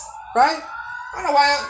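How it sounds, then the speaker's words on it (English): A wailing emergency vehicle siren sounds from a street outdoors, rising and falling in two sweeps underneath someone talking close by. "Excuse the siren"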